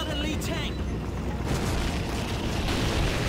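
Tank explosions during a Call of Duty 2 battle, a loud, continuous booming rumble of blasts and gunfire layered over a dense combat din for the whole stretch.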